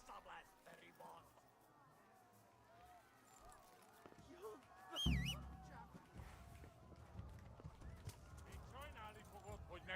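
Horse hooves clip-clop and gallop in a medieval video game set in Kingdom Come Deliverance, a steady rhythmic run with a brief whinny midway, under intermittent talk from a player.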